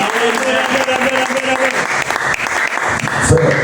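A church congregation applauds the Lord during a sermon, with dense, steady clapping throughout and voices calling out over it.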